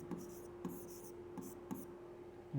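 A pen scratches across paper as a calendar reasoning problem is solved by hand, in several short bursts of scribbling separated by soft taps, close and quiet, with faint speech in the background.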